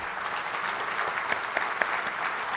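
Sustained applause for Governor Thompson at the close of an Illinois panel discussion, a thick wash of clapping from a sizable audience with occasional crisp individual claps near the front.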